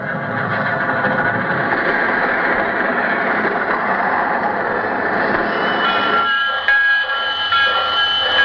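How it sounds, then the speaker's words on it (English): A radio sound effect of a train pulling into a railroad station, built from four records on separate turntables: a loud, continuous rumbling and clanking roar with whistle-like tones, quieting near the end. "Our story begins with our hero's train pulling into the railroad station."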